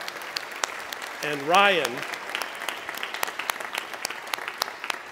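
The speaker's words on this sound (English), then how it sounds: "I want you to give them a round of applause" A church congregation claps for the camera crew at a worship service, a dense moderate patter of many hands while someone speaks briefly above it.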